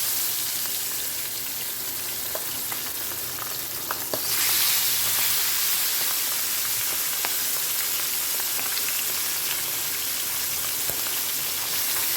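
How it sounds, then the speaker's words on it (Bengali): Pabda fish frying in oil in a Bengali kitchen, a loud continuous crackling sizzle that swells noticeably partway through and then holds steady. "সবগুলো মাছ দেখো আমার ভাজা হয়ে গেছে আমি মিডিয়াম করে ভেজে নিয়েছি"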